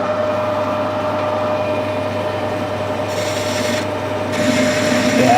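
A lathe screw-cutting a thread on a free-cutting steel nipple adapter, giving a steady mechanical hum with a continuous scraping, rasping cut that brightens near the end.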